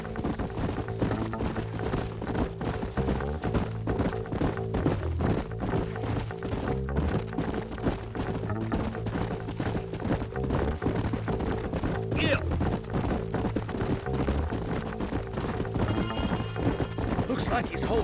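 Horses gallop in the Red Dead Redemption video game, their steady, close hoofbeats running nonstop under game sounds, with a whinny rising briefly partway through.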